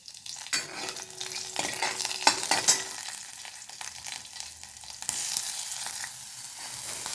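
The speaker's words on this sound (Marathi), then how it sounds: "कांदा टाकून आपल्याला कांदा छान परतवून घ्यायचा आहे" Chopped onion frying in a pan with garlic, green chili and cumin seeds, a close continuous sizzle broken by scraping stirs, growing louder and brighter toward the end.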